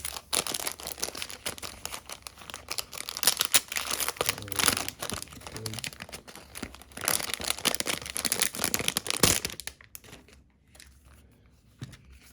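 A Pokemon card pack is torn open, its foil wrapper crinkling and crackling loudly and nearby in dense bursts for about ten seconds before it quietens.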